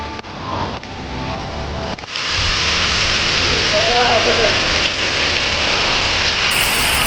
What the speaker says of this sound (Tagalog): ang lakas ng ulan dito sa Thailand